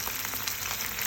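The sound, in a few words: stirring sauce and egg in a pan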